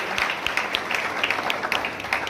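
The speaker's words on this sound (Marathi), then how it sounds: "आपण सगळ्यांनी टाळ्या वाजवून या सगळ्यांनी स्वागत केलं पाहिजे" An audience claps together to welcome guests at a peace committee meeting in Ahmedpur, Latur district. The applause is a steady, fairly faint patter of many hands that runs through the whole stretch.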